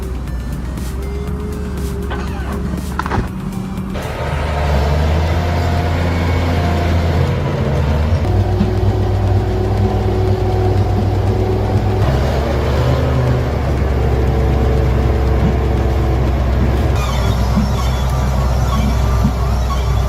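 A logging skidder engine runs loud and close, holding a heavy steady drone that shifts pitch several times as the machine works, with no talking.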